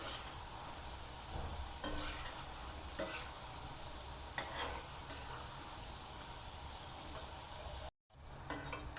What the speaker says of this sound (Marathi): आपण याच्यामध्ये कापण्या सोडून घेऊया. आपण आता खरपूस अशा तळून घेणार आहोत.